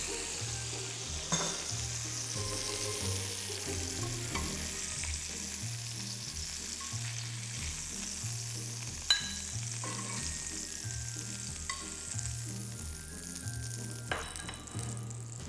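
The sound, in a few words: chicken breast frying in a pan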